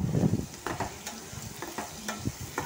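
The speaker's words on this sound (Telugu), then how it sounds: "తర్వాత కొంచెం కరివేపాకు వేసుకోవాలండి" Curry leaves drop into hot oil in a pan already holding garlic and onions, crackling sharply in a loud burst, then settling into scattered pops and light stirring, with no talking.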